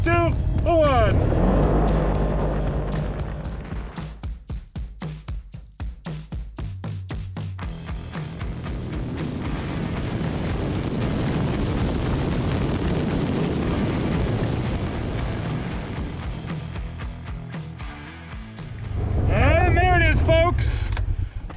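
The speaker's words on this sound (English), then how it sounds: "Top speed run here on the Ranger XP1000. Got it in high range, two-wheel drive, performance mode." A Polaris Ranger XP1000 UTV in high range, two-wheel drive and performance mode launches on a top speed run, its engine roaring loud and close, revving through several shifts in a long sustained climb before easing and surging again.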